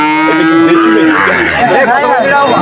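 A Sahiwal calf at a rural cattle market in Betaga lets out a loud, close moo that bends and rises in pitch, with faint chatter behind it.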